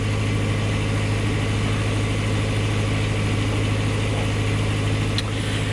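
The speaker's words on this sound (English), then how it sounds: "It's just the engine tone change," A boat engine idles steadily on the Norfolk Broads, a constant low droning hum with an even tone that stays loud and unbroken from start to finish.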